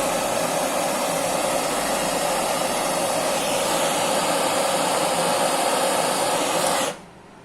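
A gas torch roars steadily as its flame heats metal for brazing with Foscopper, a loud close broadband hiss that holds for about seven seconds before cutting off abruptly.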